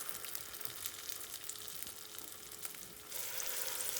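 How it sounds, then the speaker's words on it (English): Nigerian akara bean fritters fry in hot oil, a steady quiet sizzle and crackle that stays even throughout and grows slightly louder near the end. "so I'll fry until golden brown"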